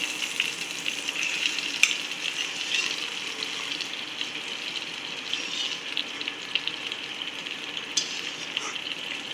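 Wheat flour pasta tipped into a pan of masala, a steady close sizzle with soft scraping and stirring running throughout, no voices.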